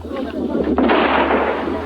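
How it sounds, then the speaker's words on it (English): A small anti-personnel butterfly mine explodes in a single sharp, loud blast with a rumbling low-end tail, over steady background noise. "They don't kill people. The explosion is a small one."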